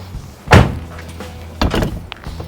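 The door of a wrecked Toyota 4Runner shutting, two solid thumps with a slam quality about a second apart, close and loud over a quiet low hum, no talking.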